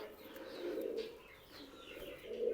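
Ornamental tumbler pigeons, a gift from abroad from Bulgaria, coo in soft, repeated low rolling calls, close and steady through the whole stretch, with a few faint chirps above.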